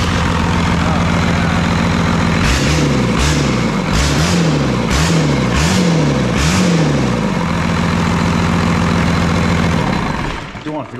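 A 1979 Ford truck with a Cummins diesel engine idles loudly, then is revved hard in a rhythmic series of about six rising-and-falling blips before settling back and cutting off.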